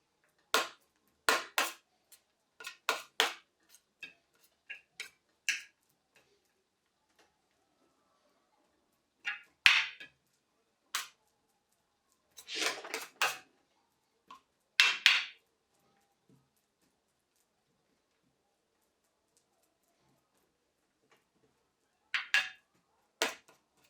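Hookah tobacco flavours being stirred and mixed in a bowl: sparse, crisp clicking and scraping taps in short clusters separated by silent pauses, close and fairly quiet, with no talking.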